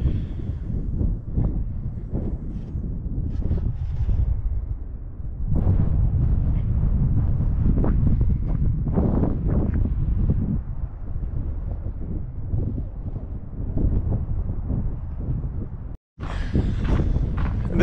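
Wind blowing outdoors in rural Nevada near a recreation area, a steady low rumbling gust buffeting the microphone throughout, swelling and easing slightly, with a short dropout near the end.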